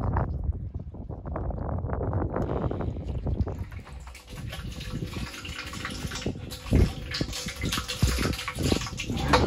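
Off-grid solar water pump pumping water toward a rooftop tank: an opening hiss and rush gives way to a broad, steady flowing noise with irregular knocks and splashes, moderately loud, with faint voices under it.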